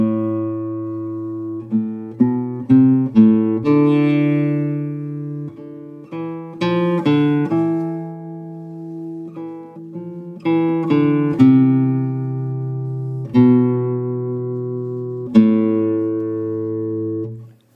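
Classical guitar plays the main melodic line of a Giuliani Allegro, clear plucked notes with steady harmonic ringing, phrased in short groups with brief pauses, close and solo with no voice.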